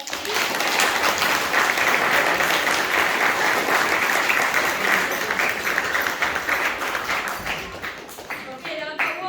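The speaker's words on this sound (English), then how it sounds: "Give Nova a big clap, please." A crowd claps for a young child at a school graduation, a dense, steady burst of applause that carries on for several seconds before thinning out at the end.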